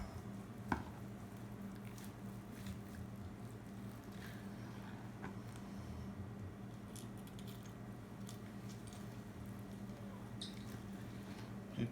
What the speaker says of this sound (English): Got my old long brisket knife here. I'm going to go right into one of these center ones right here.